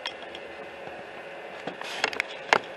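A 3D printer extrudes filament with a low mechanical whir and scattered clicks and clinks that grow sharper toward the end, heard close by with no talking.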